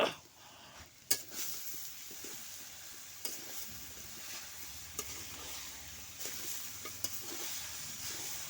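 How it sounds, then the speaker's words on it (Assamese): Jaggery and grated coconut sizzle and get stirred in a heated wok, a steady soft frying hiss broken by occasional clinks and scrapes of a spatula against the metal. "এইফালে গুড় আৰু নাৰিকল আনি ৰেডি কৰি থৈছোঁ, এতিয়া ভাজিম আৰু দেই। কেৰাহীটো গৰম হৈছে"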